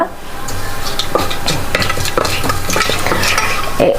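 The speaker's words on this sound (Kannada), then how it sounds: "ಅದನ್ನು ಚೆಂದ ಫ್ರೈ ಮಾಡಬೇಕು ಪರಿಮಳ ಬರೋ ತನಕ" Whole spices such as cloves and a small piece of cinnamon fry loudly in hot oil for pulao, with close, continuous sizzling and stirring and no talk.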